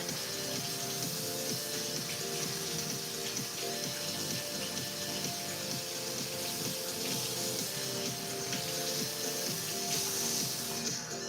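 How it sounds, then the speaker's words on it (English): Hot tap water runs in a steady, close, hissing stream over a small craft kit piece, splashing continuously and growing slightly louder near the end, with no voices. "I just blasted a ton of hot water over this"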